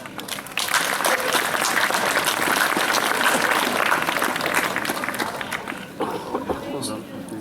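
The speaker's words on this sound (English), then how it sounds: "I think a big round of applause to all of you as well." Sustained applause from an outdoor crowd at a large geocaching mega event, broad and steady for several seconds with voices mixed in, thinning toward the end.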